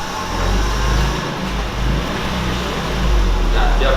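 A Toyota Supra JDM car engine revs nearby with a loud, deep rumble, swelling and easing in waves over a few seconds.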